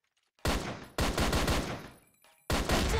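Rapid bursts of video game gunshots, loud and close, come in three clusters separated by short gaps, with no talking.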